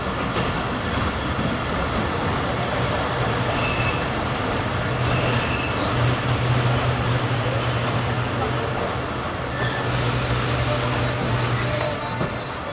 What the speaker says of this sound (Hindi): और गाड़ी का हमारी ब्रेक लग गया है